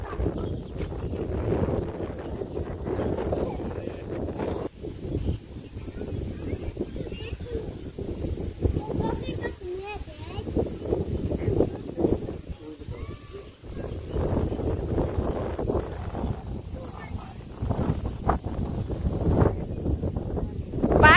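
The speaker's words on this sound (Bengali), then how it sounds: "এত বাতাস" Strong gusty wind buffets the microphone outdoors near fields, a loud continuous low rumble with surges throughout, while people talk over it and a few faint bleating-like animal calls come and go.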